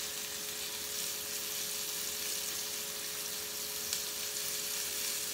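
Beef pieces spread in a single layer sizzle in a hot pan on an Aga 60 cooker, a steady close hiss with a faint crackle and no voices.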